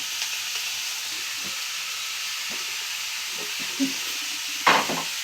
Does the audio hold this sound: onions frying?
yes